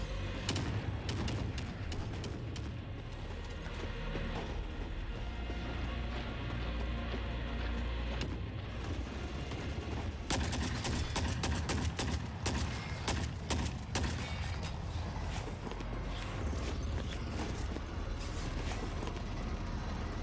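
AK rifle fire in The Forever Winter video game: faint, scattered sharp cracks and short bursts of gunshots over a low rumbling background, coming in irregular clusters.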